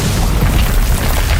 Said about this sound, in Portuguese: Gul'dan arrebentou a porta com um baque ensurdecedor